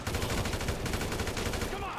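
Gunshots in GTA 5 crack in a steady, fast stream throughout, loud and close, with a voice faintly under the continuous barrage.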